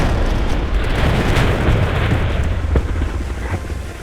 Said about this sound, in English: We're hearing explosions, possibly Scuds.